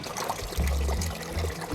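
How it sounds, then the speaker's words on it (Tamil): Water poured steadily into a bucket to fill it with ten litres, a close, continuous trickling and splashing stream with slight surges, heard alone without talk. "ஸோ 10 லிட்டர் தண்ணி ஊற்றிடலாம்"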